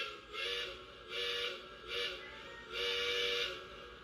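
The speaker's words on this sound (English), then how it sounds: "I have the whistle all the way down because Southern locomotives have a very deep whistle." Lionel model train locomotive whistle at its factory pitch setting, sounding four separate bright, hissy blasts of varying length with short gaps between them, close and clear with no talking.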